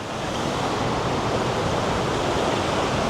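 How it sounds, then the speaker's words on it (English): A big waterfall in Krka National Park, Croatia, roars as a steady, dense rush of water, close and loud without a break. "Oh, nice big waterfall."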